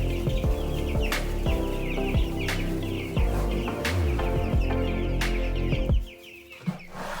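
A flock of chickens clucking and chattering continuously at close range on a farm, with sharp knocks and scuffs now and then, quieting near the end.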